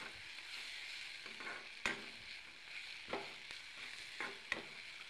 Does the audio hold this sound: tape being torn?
no